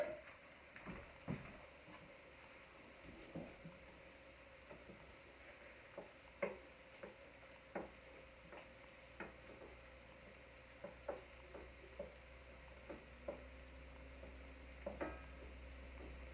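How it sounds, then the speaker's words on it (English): Eggs being stirred and scrambled in a hot pan with hash, a soft steady sizzle under repeated sharp scrapes and taps of a utensil against the pan, close and moderately quiet. "scramble the eggs right in."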